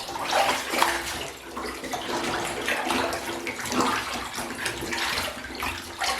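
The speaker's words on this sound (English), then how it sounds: "empty the bath and then rinse it with clean water" Bath water draining and running for rinsing a guinea pig fleece by hand, a steady gurgling, splashing flow close by, with no one talking.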